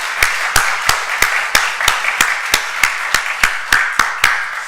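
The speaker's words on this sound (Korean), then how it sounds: "우리 수고한 모든 분들을 위해서 우리 다시 한번 격려의 박수 부탁드립니다." Church congregation claps in unison at a service, about fourteen sharp, evenly spaced claps in a steady rhythm, loud and close, with no voices over them.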